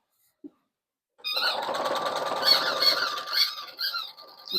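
A sewing machine runs steadily while stitching around the edge of a tote bag, a continuous close whir with faint squeaks after a single tiny click.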